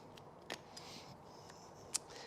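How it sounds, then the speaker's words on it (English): Scissors snip through the underlying seat fabric of a 2021 Toyota Tacoma during a leather seat installation, giving several faint, sharp cuts spaced irregularly over a quiet background. "continue to cut the underlying fabric"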